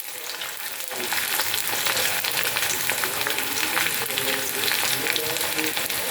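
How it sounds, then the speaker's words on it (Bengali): Corn kernels deep-fry in hot oil over a high flame, bursting into a loud, dense, continuous sizzle and crackle after a quieter first second, close and steady throughout. "এভাবে আমি সবকটা কর্ন এভাবেই ভেজে তুলে নেব"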